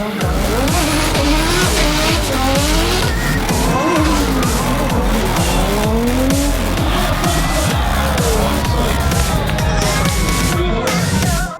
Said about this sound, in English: Drifting is a style of driving where cars literally slide round corners